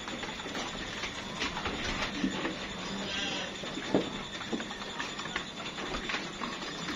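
Weaned F1 Awassi cross lambs bleat a few times in a pen. The short, faint calls come from some distance and sit under a steady hiss of farm background noise.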